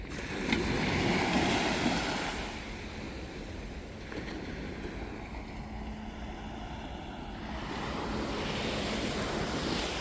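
Sea waves wash onto a harbour beach at night, a steady broadband rush that swells and fades under wind noise, with no talking.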